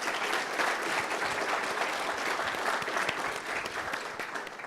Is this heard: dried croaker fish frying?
no